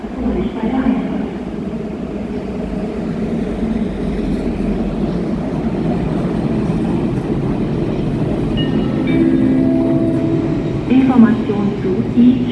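A regional RE8 train rumbles into a platform at Cologne Main Station, a loud continuous rolling roar with squealing brake tones toward the end, under station noise.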